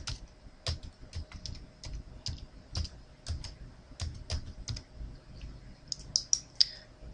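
Computer keyboard typing an IP address during a VMware ESX server software installation, a quick run of close, crisp key clicks in uneven bursts over a quiet background.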